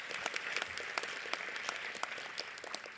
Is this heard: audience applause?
yes